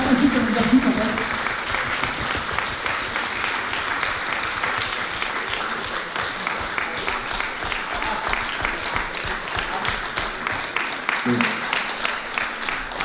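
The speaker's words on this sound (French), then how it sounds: "Vous pouvez continuer à les applaudir" Sustained audience applause at a live show, steady dense clapping throughout, with some voices heard over it.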